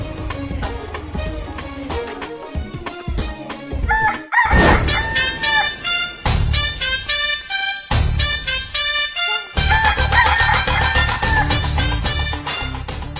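A rooster crows loudly and repeatedly in a Hindi comedy sketch, its drawn-out cock-a-doodle-doo calls coming close together, with clucking between them.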